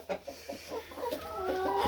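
Several chickens cluck and squawk in short bursts at a small poultry farm with roosters and a duck, close and lively, rising into a longer drawn-out call toward the end.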